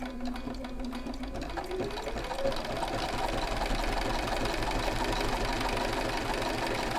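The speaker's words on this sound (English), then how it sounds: "now we're going to start sewing around our letter R" A sewing machine stitches around a fabric letter R, a steady close rhythmic needle chatter running continuously after a brief start, with no talk.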